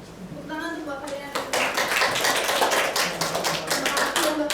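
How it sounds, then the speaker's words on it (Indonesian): Classroom applause during a microteaching practice session, a burst of many hands clapping densely and fairly loudly for several seconds, with a voice speaking briefly before the clapping swells. "Tepuk tangan untuk Mbak Karina"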